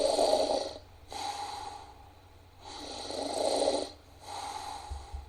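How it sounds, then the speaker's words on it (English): A snoring sound effect plays back, two slow cycles of loud rasping inhales each followed by a softer wheezy exhale, steady and rhythmic with no talking. "Snoring."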